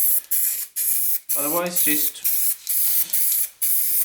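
Close aerosol spray paint can hissing in repeated short bursts while coating Jaguar XJ6 cam covers, with a brief voice speaking midway between sprays.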